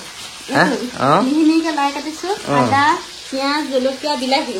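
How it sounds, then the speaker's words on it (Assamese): Whole fish sizzles steadily in a pan while a voice talks loudly over the frying. "ইফালে মাছ ফ্ৰাই হৈ আছে"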